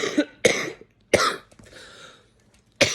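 A smoker coughs several times in harsh, loud bursts close to the microphone, with short pauses and a rougher throat-clearing rasp between them.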